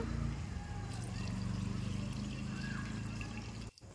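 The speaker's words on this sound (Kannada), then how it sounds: "ಮಸಾಲೆ ರುಬ್ಕೊಂಡಿದ್ದ ಮಿಕ್ಸಿ ಜಾರನ್ನೇ ತೊಳೆದುಬಿಟ್ಟು ಅದೇ ನೀರನ್ನ ನಾನು ಸೇರಿಸ್ಕೊಳ್ತಾ ಇದ್ದೀನಿ" Water from a rinsed mixer jar that held ground masala pours into a pot of rice for mushroom biryani, a steady close trickling splash that stops abruptly near the end.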